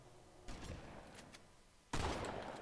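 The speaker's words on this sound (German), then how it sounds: "Ja, und wie sie die Schüsse anhören." Bursts of gunfire from the video game Halo: The Master Chief Collection on Xbox One, two sharp onsets leading into sustained rattling fire, fairly faint and unaccompanied by voices.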